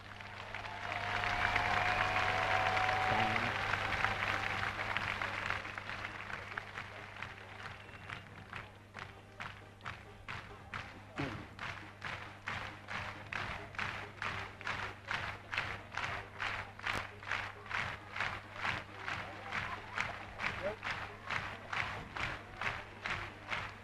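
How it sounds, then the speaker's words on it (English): An arena crowd at the 2005 World Aquatics Championships men's 3m springboard final first cheers and applauds, then settles into loud, steady rhythmic clapping and foot stomping in unison that keeps building. "Stomp your feet and clap your hands"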